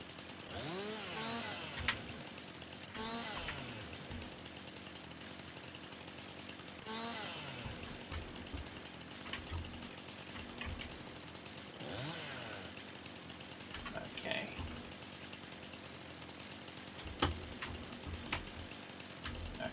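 A chainsaw felling trees in the Farming Simulator 19 video game, its engine buzzing in repeated rising and falling bursts over a busy, steady game soundscape with occasional sharp clicks.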